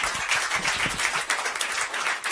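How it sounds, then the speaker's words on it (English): An audience at a Fuck Up Night event in Stockholm breaks into warm applause, a dense, fairly close wash of many hands clapping with no speech. "A warm applause to Axel."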